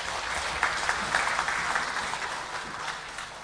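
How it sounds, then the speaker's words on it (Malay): An audience at a university meeting breaks into continuous applause, a dense wash of clapping that stays even and then tapers slightly toward the end. "Tepuk tangan."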